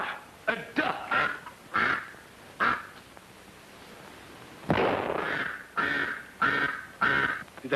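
A duck quacks in a colorized 1942 film scene, with short, loud, repeated calls in two clusters. A sharp, loud burst breaks the pause between them.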